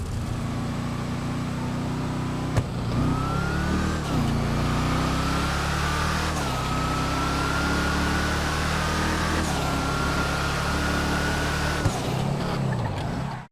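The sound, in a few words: Hellfire car accelerating with supercharger whine, GTA Online video game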